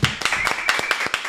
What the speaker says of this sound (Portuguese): recebam com forte aplauso, o Dr. Paulo Musi.